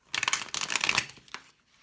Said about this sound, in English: One last shuffle, please.